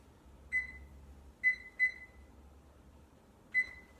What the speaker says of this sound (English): I guess I better set the timer now.